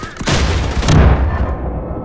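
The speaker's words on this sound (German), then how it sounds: "Irgendeine Explosion hat uns weggehauen" A loud, close explosion in the shooter game Wolfenstein: The New Colossus, a heavy booming blast with a deep rumble that decays over about two seconds.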